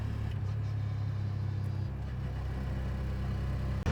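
An auto rickshaw engine drones steadily while driving along a highway in Telangana, a continuous close rumble with road noise and no talk.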